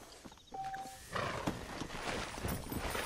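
A horse whinnies, then hooves and game sound pile up in a busy Western scene from the video game Red Dead Redemption, with the neigh clear near the start and loud galloping action following.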